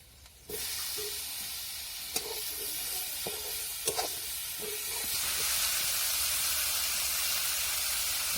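Eggplant and potato pieces drop into hot spiced masala in a home kitchen, setting off a steady close sizzle with a few clacks of a stirring spoon, the frying hiss swelling louder as it goes on.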